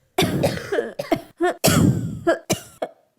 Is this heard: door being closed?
no